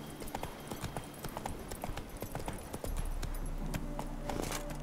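Horse hooves clip-clopping at a steady walking pace in a video game, with a low droning ambience underneath and a faint tonal hum joining partway through.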